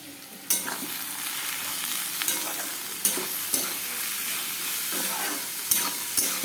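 Potatoes seasoned with turmeric and salt fry in a pan, giving a continuous close sizzle broken by several sharp clinks and scrapes of stirring.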